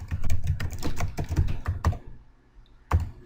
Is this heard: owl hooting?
no